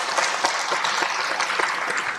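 An audience claps warmly at the close of a lecture, a dense, sustained round of applause from many hands in a hall, with no voices over it.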